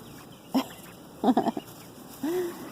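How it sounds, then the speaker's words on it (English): Several short nasal quacks come in brief bursts, a single call and then a quick cluster, followed by a longer drawn-out call against a quiet outdoor background. "The ducks love coming over here and digging around when I'm outside."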